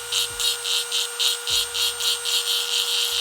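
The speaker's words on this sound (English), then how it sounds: "I'm gonna be using this bit on my Dremel" A Dremel rotary tool roughens a surface for a mini fog machine prop build, a close high whine pulsing in a quick, even rhythm with a steady tonal hum underneath.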